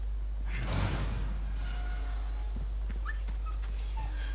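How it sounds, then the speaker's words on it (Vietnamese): A dog whimpers in the Resident Evil 4 Remake video game, with faint, thin whines and yips scattered through a quiet, hushed game ambience, with no talking. "Sao tiếng con chó đâu nhỉ?"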